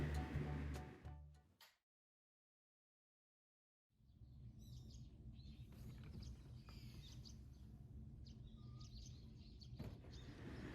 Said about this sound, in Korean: 이른 아침 새소리에 기분 좋게 눈을 떴습니다.